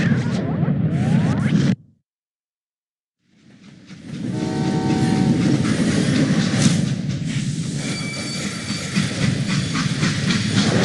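Freight train in the Western shooter Call of Juarez: Gunslinger, rumbling loudly with a steady hiss and rattle of cars and a tonal whistle or horn partway through; a brief silent gap follows the opening rumble, then the loud train noise resumes and continues to the end.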